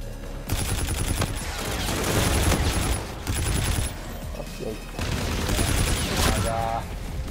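Turrets fire in the Infinite Warfare video game, dense bursts of rapid automatic gunfire with booming impacts, loud and continuous with short pauses.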